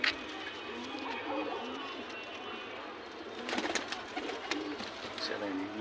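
Soft pigeon coos and fluttering sounds close by, with people talking intermittently in Hindi over them.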